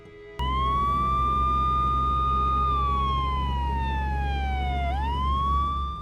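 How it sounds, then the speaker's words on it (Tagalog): An ambulance siren wails loudly and close for about six seconds, a steady high tone sliding slowly downward then sweeping back up, with no talk over it. "ipinasundo na namin sa ambulansya si Baby Ella"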